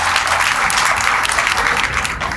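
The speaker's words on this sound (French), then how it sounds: "Applaudissez pour vous-même." A university audience at the opening of an inter-university competition claps in a dense, sustained burst of applause, loud and continuous throughout.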